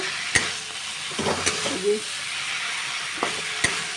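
Fish sizzles softly in a pan while a spatula stirs and taps against the metal, giving several sharp clinks over a continuous hiss.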